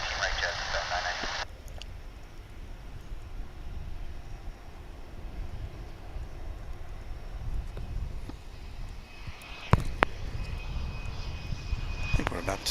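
A cargo airplane's engines roar steadily at DFW International Airport, a broad, continuous rumble heard from a distance with a faint voice talking over it.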